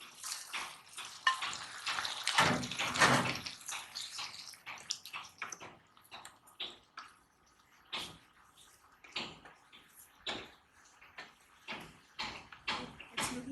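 Chicken pieces fry in a pan for Kung Pao chicken, giving a loud hiss and sputter at first that settles into intermittent crackling bursts and scraping stirs, close by and without talk.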